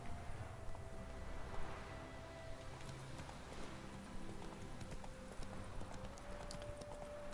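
Roach, a horse in a fantasy video game, trotting with steady clip-clop hoofbeats at a moderate distance. A low continuous music or ambience bed runs underneath the whole time.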